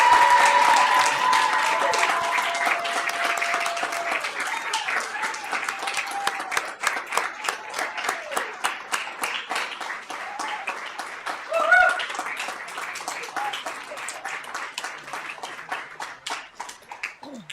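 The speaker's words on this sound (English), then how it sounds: "Let's give them a round of applause." Round of applause from the audience at a school board meeting, loud dense clapping that thins into scattered individual claps, with faint overlapping tones early on and occasional voices.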